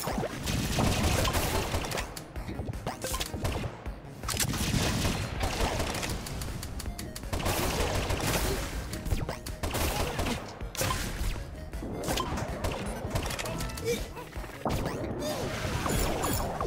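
Rapid gunfire in Alien Hominid Invasion, dense bursts of shots and crashing impacts firing almost continuously, loud and close, with brief gaps between volleys.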